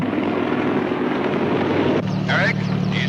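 A helicopter in flight, a steady, loud rotor drone throughout, with a radio voice speaking over it in the second half.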